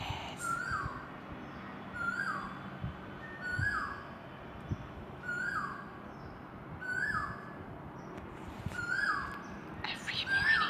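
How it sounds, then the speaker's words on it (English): An unidentified bird calls in the morning, repeating a short descending call about every one to one and a half seconds at moderate distance, over steady outdoor background noise. "No idea what bird makes that sound."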